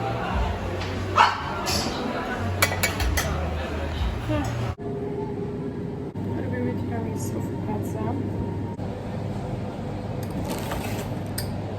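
A small pet dog yips, whimpers and gives a few short barks indoors, scattered across the clip under ongoing talk and household background noise.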